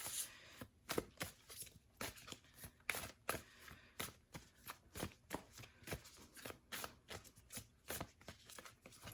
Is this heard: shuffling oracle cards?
yes